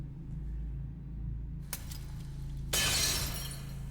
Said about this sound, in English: it's definitely not the sound of shattering glass